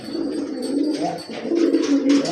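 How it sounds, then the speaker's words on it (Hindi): A female pigeon coos near a large tree: soft, low, throaty calls roll on steadily at close range, swelling in a few louder phrases over faint background hiss. "ये कबूतरी कितनी प्यारी है यार।"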